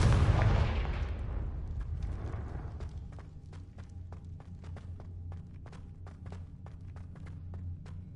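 A Confringo fire spell bursts in Hogwarts Legacy with a loud, close blast that decays over a couple of seconds into a low rumble, followed by a run of faint, evenly spaced clicks and taps.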